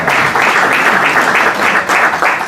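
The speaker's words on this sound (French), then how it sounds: "Applaudissons encore pour Madame." An audience claps loudly and steadily for someone speaker at a conference, a close, dense burst of applause with slight rhythmic surges and no one talking over it.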